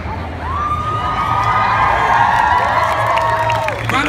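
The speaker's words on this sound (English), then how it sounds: "Round of applause for Adrian, everyone." An awards-ceremony audience at Summer in the City Awards 2016 cheering and whooping for a winner, a sustained loud crowd roar with high shouts and a faint background voice.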